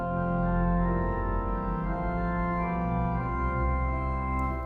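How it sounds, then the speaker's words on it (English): Piccolo 2-foot stop drawn on a 1906 Felgemacher pipe organ, a bright, loud, sustained chord with changing notes over a steady low foundation, played alone. "This is a piccolo 2-foot."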